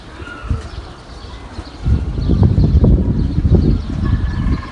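A flock of pigeons on a rooftop loft, kept by a pigeon fancier, flutter and flap their wings in a rising, busy clatter with soft cooing woven through, close and lively after a quieter start.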